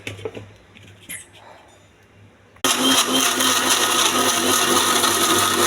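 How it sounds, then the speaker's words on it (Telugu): A mixer grinder blending coriander and coconut chutney with green chillies and salt roars to life partway through, a loud steady whirring that runs without pause after a few quiet moments of light clatter. "ఇవన్నీ వేసి ఫస్ట్ మిక్సీ"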